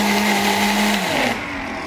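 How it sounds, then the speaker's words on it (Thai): A blender whirs loudly and close at a steady pitch while blending a strawberry milkshake with a full cup of ice, then winds down near the end. "แล้วเราก็กดปั่นได้เลยค่ะ"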